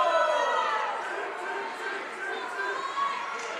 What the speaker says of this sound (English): Crowd now fired up here at the Ice House